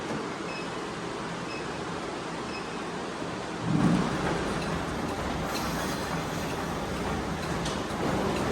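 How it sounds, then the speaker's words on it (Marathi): Steady rain hisses in the background while a low rumble of thunder rolls in and lingers, no voices. "पाऊस रिमझिम पडतोय"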